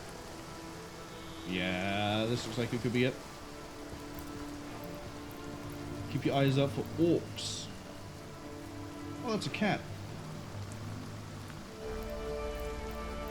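Continuous rain patters across the Divinity Original Sin video game setting, a soft, even wash running beneath several short bursts of talk.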